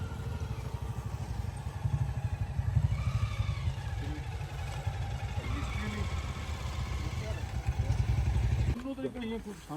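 A motorcycle engine runs steadily with a low, throbbing rumble for most of the clip, then cuts off near the end; voices chatter in the background.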